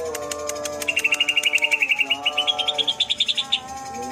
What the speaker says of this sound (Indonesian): Ini burung cucak ijo, bukan burung masteran loh Om.